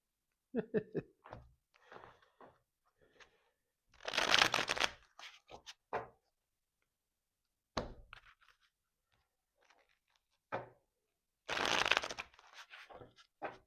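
Tarot cards being shuffled by hand, with two louder riffling bursts among softer taps, knocks and card handling, near and fairly quiet.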